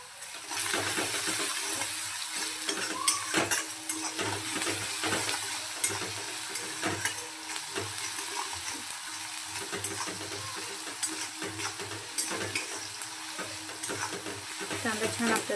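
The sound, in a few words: onion and okra frying and being stirred in a pan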